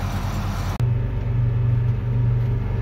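A 160-horsepower tractor labors through heavy hay, its engine a loud, steady low rumble that drops out for an instant near the start before resuming strongly.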